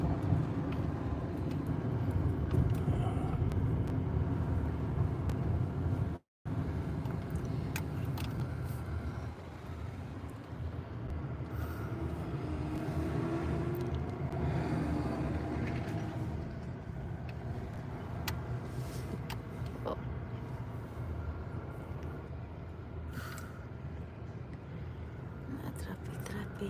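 Road traffic in Ann Arbor, a continuous low rumble of passing cars and engines, with swells as vehicles go by and a brief dropout near the middle, while people talk over it.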